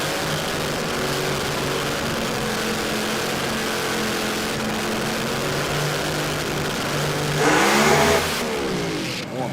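Race car revving hard at Willowbank Raceway, loud steady engine drone near the mic, then a sharp high scream of tyres spinning for about a second before the engine note drops away.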